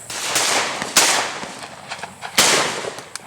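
Two sharp, loud shotgun blasts crack out about a second and a half apart in an open field during a dove hunt, each followed by a brief fading tail, with softer distant pops in between.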